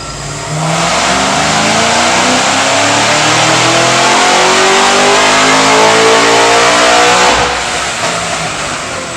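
A Cadillac CTS-V V8 fitted with a bigger camshaft revs hard and close, a loud sustained roar that rises and holds for several seconds before dropping off near the end, with no talking over it.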